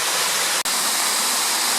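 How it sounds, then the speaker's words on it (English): Roar of a large waterfall heard up close on a countryside walk, a loud, steady broadband rush filling the whole clip with only a split-second dropout. "Here we are at the legendary second waterfall, which Stephen didn't think ever existed."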